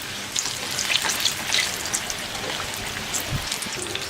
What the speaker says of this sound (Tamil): எண்ணெயில் ஒவ்வொன்றா எடுத்து அதே மாதிரி போட்டுக்கலாம்